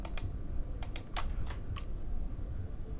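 Computer keyboard keystrokes entering shortcuts in FL Studio: a handful of crisp, close clicks in quick pairs and clusters, then quieter pauses, with no voices over them.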